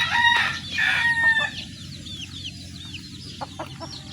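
Pet chicken from Bohol crowing loudly and close at the start, then clucking in shorter calls with faint bird chirps behind.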